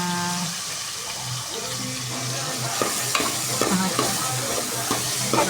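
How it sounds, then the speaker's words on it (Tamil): Tomatoes sautéing in a pan for bone rasam, with a steady close sizzle of frying and occasional scraping and stirring clatter from a spoon against the pan, moderately loud with no voices. "அதுக்கப்புறமா தக்காளி போட்டு நல்லா வதக்கி வச்சுக்கணும்."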